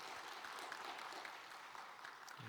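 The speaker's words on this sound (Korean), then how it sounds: "우리 다 같이 박수로 격려하겠습니다." Faint, steady clapping from a church congregation at a Wednesday worship service, heard at a distance throughout, with a voice beginning just at the end.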